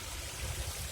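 Water from a spring flows into a valley stream near Puerto Durazno with a continuous, fairly close rushing and gurgling wash and no voices.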